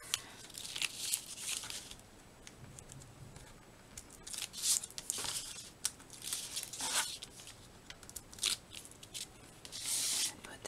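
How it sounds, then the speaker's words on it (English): Backing being peeled off a piece of a Christmas craft card, with crisp close crinkling and tearing rustles in short bursts, then a longer peel near the end, with no talking over it. "Peel this off."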